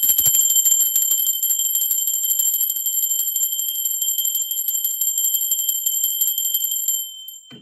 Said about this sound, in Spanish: Sí, va campana.